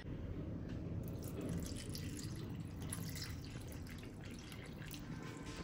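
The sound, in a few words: water being poured into a container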